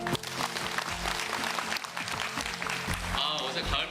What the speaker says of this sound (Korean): 박수를 들으니까요